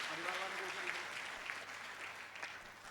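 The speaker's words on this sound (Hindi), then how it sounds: "इसलिए एक बार फिर से इनके सम्मान में तालियां बजाएं" An audience at a Jain religious gathering in Jharkhand claps in honour of those being thanked, a faint, distant wash of applause with a voice briefly audible at the start.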